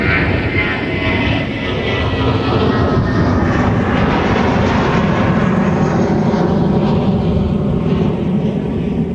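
A United airliner bound for Chicago O'Hare rolls for departure at Minneapolis–St. Paul airport, its jet engines roaring loud and steady throughout with a broad rushing drone that swells slightly as it passes.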